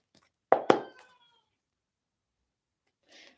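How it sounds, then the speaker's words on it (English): Two short, sharp meows from a nearby cat in quick succession, followed by near silence and a faint rustle at the end. "That sound was my cat, by the way."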